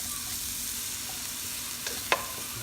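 Chicken wings for Korean honey butter fried chicken sautéing in a pan, a steady close sizzle with a couple of brief clinks or scrapes near the end.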